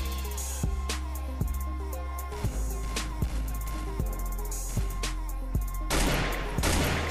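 Gunshots in the mobile battle royale game Free Fire, a series of sharp, evenly spaced single shots with ringing tails, ending in a louder burst of rapid fire.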